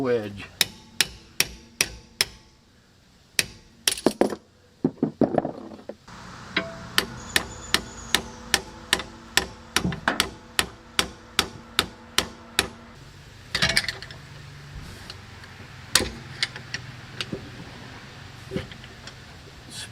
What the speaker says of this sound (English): Hammer wedge.